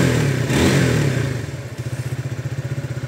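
A 2015 Honda Sonic motorcycle engine idling close by, a low rhythmic putter with a brief throttle blip at the start before settling into a steady pulsing beat.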